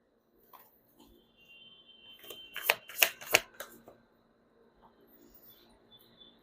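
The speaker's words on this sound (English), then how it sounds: "You saw me shuffle as always" Tarot cards being shuffled by hand at close range, a quick burst of three or four crisp riffling slaps in the middle of a quiet stretch, with faint soft handling rustles before and after.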